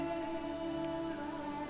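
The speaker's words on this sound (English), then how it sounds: "Is it still raining? It is, yes." Light drizzle of rain patters steadily on a surface, a continuous close hiss with no voices.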